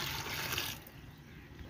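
Water is poured into a pressure cooker holding peas, onion and tomato for a potato-pea gravy, a brief close splash that stops after about a second.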